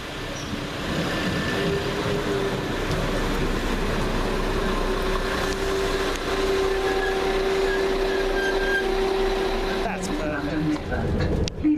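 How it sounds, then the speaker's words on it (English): A London Midland passenger train arriving at a platform rumbles steadily nearby with a sustained hum and faint tonal whine, continuous for most of the span before easing toward the end. "we welcome in by train the 11:24 London Midland service from Kidderminster to Whitlock's End"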